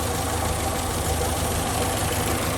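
The A-series engine of a 1968 Morris Traveller with a pancake air filter idles steadily, a dense, even chuntering drone close to the car with no voices.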